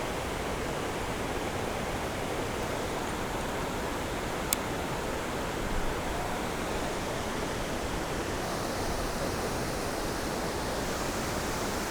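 A waterfall cascading in a steady, dense roar of rushing water that fills the whole clip, loud and unbroken, with no voices, just one brief faint tick partway through.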